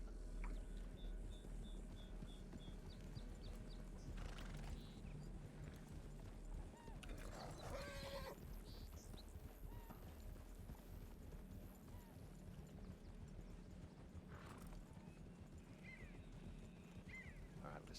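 Horses' hooves clip-clop steadily through a Red Dead–style roleplay game world in WildRP, a continuous near rhythm of galloping with an occasional whinny, while someone talks over the top throughout.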